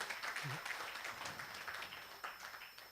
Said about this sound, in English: allow me to please join me to give a round of applause